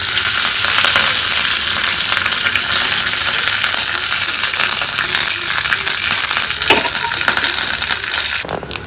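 Curry leaves sizzle loudly and steadily in hot oil as tempering for a Mangalore-style coconut chutney. The frying hiss is dense and continuous, close up, with faint stirring scrapes near the end and no talk.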